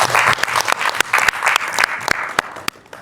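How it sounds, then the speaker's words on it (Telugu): An audience at a business-techniques seminar claps loudly, a dense burst of applause with sharp individual claps standing out before it thins and tapers toward the end. "మీకు మీరు గట్టిగా చప్పట్లు కొట్టుకోండి."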